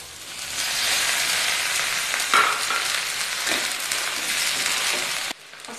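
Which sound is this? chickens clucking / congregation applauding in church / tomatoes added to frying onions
tomatoes added to frying onions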